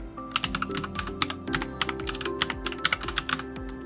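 Someone types a sudo apt install command into a Linux Ubuntu terminal on a computer keyboard, giving a steady stream of close, sharp key clicks over a low background hum.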